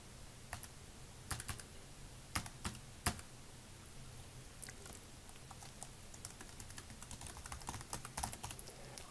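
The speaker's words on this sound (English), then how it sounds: "you have to type in the student's email address a second time" Quiet, rapid clicking of computer keyboard keys as an email address is typed, with irregular bursts of keystrokes and a few sharper taps over a faint background hum.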